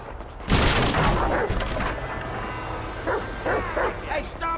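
Dog barking in Grand Theft Auto V, the Chop dog mission, with loud repeated barks and yips over gunfire-like booms and game noise, while a voice talks throughout.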